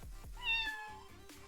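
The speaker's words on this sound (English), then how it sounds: "You get the bass boosted cat purring." A bass-boosted cat purr from a video game: deep, thumping low pulses repeat in a rhythm, joined by a brief meow-like tonal cry, all loud and close.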